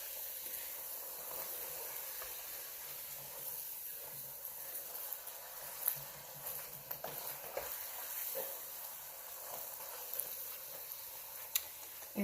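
Taco shells frying in a pan of hot oil give a steady, continuous sizzle and hiss with a few sharp pops and crackles, close by and with no talking.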